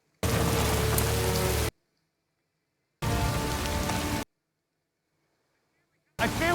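Rain falls heavily in a scene from the TV show Bridgerton, coming in three abrupt loud bursts of dense patter separated by silence, with faint voices mixed into the downpour.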